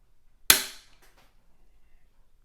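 A single sharp, close click from a Timney trigger on a CZ 457 rifle breaks during a pull-weight test, ringing off quickly in a quiet room.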